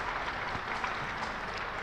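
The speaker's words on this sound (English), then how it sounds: "as he gets some applause there from" Cricket fans at the Ageas ground applauding a bowler during a Hampshire v Essex County Championship match, a steady, moderately distant patter of clapping that holds evenly throughout.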